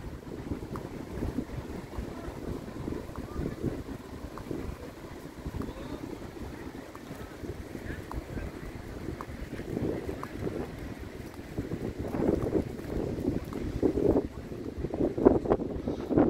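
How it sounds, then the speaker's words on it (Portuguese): Wind blowing at Praia Grande beach in São Paulo, a strong steady rush buffeting the microphone with gusts, rising louder toward the end. "Tá ventando, gente."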